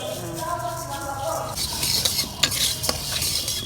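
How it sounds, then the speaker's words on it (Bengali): Lentils for khichuri are dry-roasted and stirred in a pan, heard as close scraping and rattling stirs over a low sizzle, with sharper clinks of the spoon in the second half. "প্রথমে প্রথমে ডালটা ভেজে নিচ্ছি"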